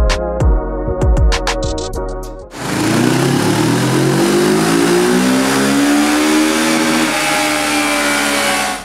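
A Kawasaki Z650 parallel-twin motorcycle on a dyno, a 2021 model, blips its throttle in short rapid bursts, then revs hard in one long rising pull that climbs steadily in pitch, loud and close.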